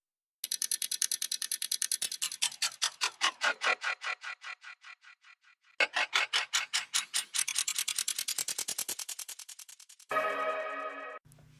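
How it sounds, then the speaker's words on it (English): A stopwatch ticks in a steady run of sharp, bright clicks that grow slower and lower as they go, fading, then restarting and slowing again before a harsh burst at the end, close and alone. "you've got this stopwatch, which is getting progressively detuned and slower as it goes along"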